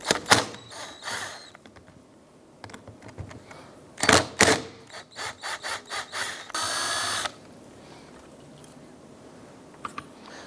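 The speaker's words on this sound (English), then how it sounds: "There's two T40 Torx bit bolts right here. Let's go ahead and remove these." A tool removes T40 Torx bolts from the power steering pump bracket of a 2005-2009 Subaru Outback. Irregular metallic clicks and taps are close by, with one short sustained whirring burst.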